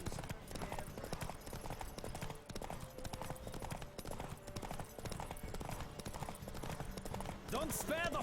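Horses gallop in a race in The Witcher 3: Wild Hunt, rapid rhythmic hoofbeats drumming steadily throughout, with a neigh near the end and game voices calling out over the hooves.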